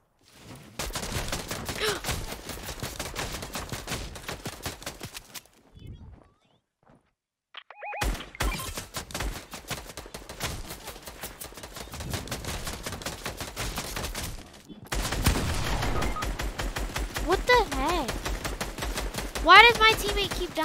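Rapid volleys of gunshots rattle through a Fortnite match, loud and repeated in dense bursts with a short silent gap midway, game effects mixed in throughout.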